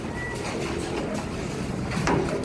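Pigeons perched on a rooftop coo softly, low murmuring calls from a flock, blurred into a noisy outdoor background with no voices.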